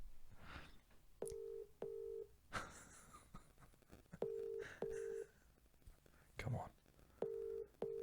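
A phone call rings out with paired electronic ringback tones repeating at steady intervals, heard close, while people murmur and talk quietly between the rings.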